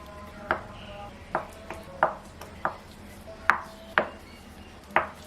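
A knife chops through rolled puff pastry dough for bakarkhani, cutting it into pieces on a board in a home kitchen, with about eight crisp separate strikes at an uneven pace, close by and with no talking.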